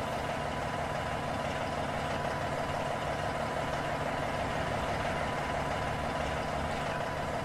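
Peterbilt 388 truck engine idling in American Truck Simulator, a steady, close, continuous low rumble with a broad mechanical hum that holds level throughout without revving.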